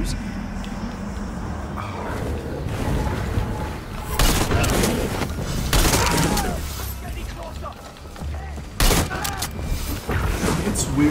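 Machine gun fire in the video game Far Cry 6, heavy bursts of shooting and booms rising and falling over several seconds, mixed with game noise and someone talking.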